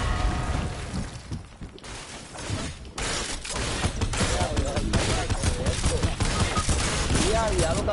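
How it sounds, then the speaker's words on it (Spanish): Rapid bursts of video game gunfire and fusillades crack repeatedly at close range over several seconds, dense and loud with brief lulls, while excited voices shout underneath. "Todo el mundo disparándome"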